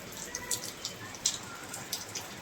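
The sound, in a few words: rain falling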